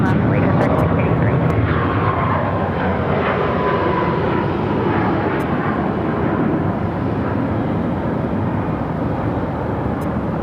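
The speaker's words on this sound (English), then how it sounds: "Got that Allegiant A320 now rolling down at 7 left." An Allegiant Airbus A320 airliner rolls down runway 7 left on its takeoff run, a loud, steady roar of jet engines with broadband rumble that holds constant throughout.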